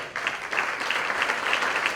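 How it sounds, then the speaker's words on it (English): Audience applause at a 2017 Zchuetzen park event, a dense, steady wash of many hands clapping that fills the whole stretch without a break. "Let's give him again another round of applause."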